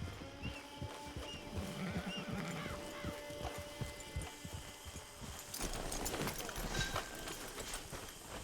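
Horse hooves clip-clop in a steady walking rhythm in Red Dead Redemption 2, with a louder burst of hoofbeats and movement toward the end.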